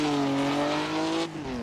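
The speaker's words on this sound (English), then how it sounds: "Mig is at the wheel of the 1982 Alfa Romeo GT-V6, packing 280 horsepower" A 1982 Alfa Romeo GT-V6 race car with 280 horsepower, its engine droning loud and close with a steady high tone, shifting pitch near the end as the tires squeal.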